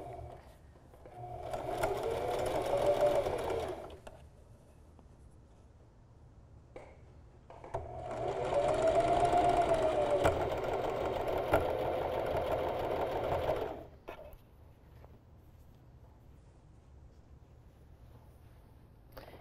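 A sewing machine stitches knit fabric for a flutter-sleeve tee in two runs, each a close, steady whirring burst of several seconds separated by quiet pauses.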